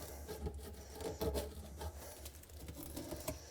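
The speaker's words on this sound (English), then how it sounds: "Clean off the burrs." The end of a freshly cut drain pipe is deburred during a DIY bathroom renovation. Steady, faint rasping strokes scrape repeatedly with no talking.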